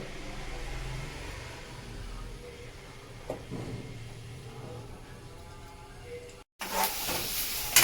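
Onion, carrot and green chili fry in oil in a pan for upma, a soft continuous sizzle close by with faint stirring scrapes, briefly cut off before louder, brighter sizzling returns.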